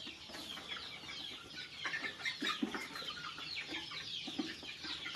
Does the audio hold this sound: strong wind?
no